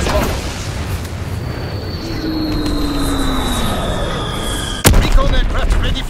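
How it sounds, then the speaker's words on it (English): Bomb blast in an online multiplayer war video game as a Fritz X bomb is dropped: a sudden sharp boom strikes late, over steady aircraft drone and battle noise, with a descending whistle and voice chatter underneath. "Dropping Flitz X bomb!"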